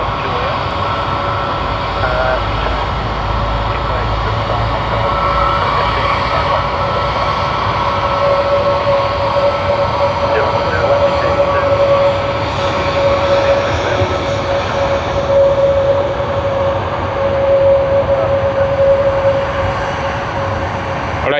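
An Airbus A320 jet on a Sydney to Auckland service roars steadily at an airport, a loud continuous broadband engine rush with a faint sustained whine, lasting throughout without talk.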